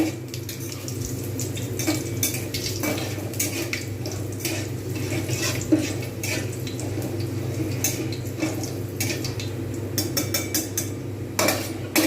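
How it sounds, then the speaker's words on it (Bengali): Whole garam masala, dried red chillies and cumin stirred in a hot pan, giving a steady scraping, clinking rattle of a spoon against metal throughout, over a constant low background hum. "গোটা গরম মশলা শুকনো লঙ্কা জিরে আমি এগুলো দিয়ে দেবো জাস্ট এগুলো একটু গরম হবে একটু নেড়ে নেবো বেশি পোড়াবো না"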